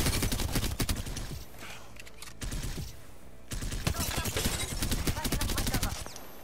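Rapid automatic gunfire bursts in the video game Apex Legends, sharp repeated cracks in clusters with brief gaps, fairly close and loud, with faint background game ambience.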